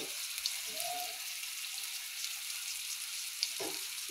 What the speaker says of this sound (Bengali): পাতিলটা দিয়ে দিলাম পেঁয়াজ কুচি, পেঁয়াজ মরিচ সব একসাথে দিয়ে দিলাম